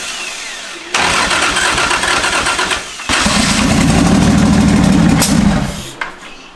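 A Toyota 1JZ VVTi engine swapped into a BMW E36 cranks and fires for its first start, loud and close, catching after a pause and running roughly before cutting out.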